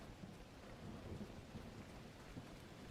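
Nighttime rain falls steadily in the video game The Last Caretaker, a soft, continuous wash of rainfall with faint rumbling beneath it and no voices.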